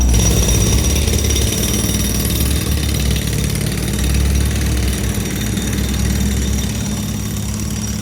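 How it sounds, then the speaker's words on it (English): A steady mechanical drone with a rapid, continuous hammering rattle from a jackhammer some distance away on East 88th Street, New York, constant throughout with no pauses. "Got a jackhammer hammering in the distance there."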